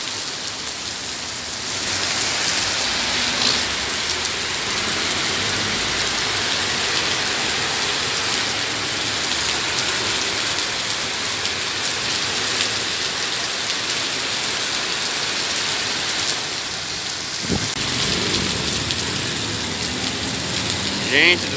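Heavy rain mixed with hailstones during a storm in Maringá, pouring in a dense, steady roar on nearby surfaces for the whole stretch, with a brief lull and sharper impacts near the end.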